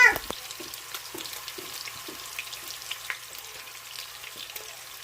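Meatballs fry in hot olive oil inside a Ninja Foodi PossibleCooker Pro with a steady, close crackling sizzle. Scattered pops and spatters break through it, and a sharp clatter sounds at the very start.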